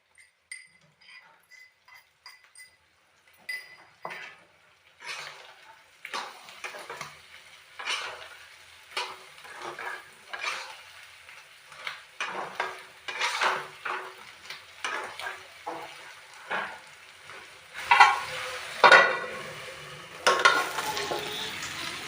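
Pork innards cooking in a pan with crushed chilies and ginger-garlic paste for a Bodo dish, with a series of scraping stirs and clinks over soft sizzling that grows louder and denser toward the end.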